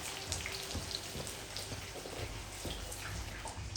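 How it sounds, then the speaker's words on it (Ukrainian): Food sizzling steadily in a frying pan during large-batch home cooking, a close, constant crackle with faint spattering pops throughout and no voices. "Дуже багато смаження, дуже багато."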